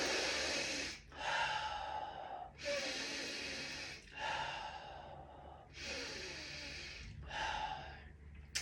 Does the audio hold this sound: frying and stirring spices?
no